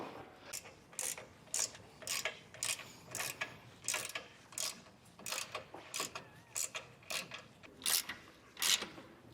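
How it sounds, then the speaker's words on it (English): A ratchet tightens bolts on Firestone Airide Red Label Extreme Duty air helper springs. Short bursts of quick clicking repeat in an uneven rhythm, fairly quiet and close, with no talking. "we're going to tighten by alternating"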